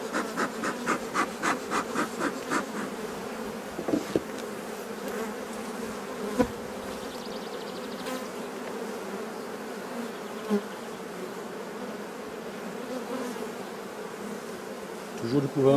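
Honeybees hum steadily around an opened beehive as an amateur beekeeper lifts frames, a dense continuous buzz close by with a few soft knocks and scrapes of the frames.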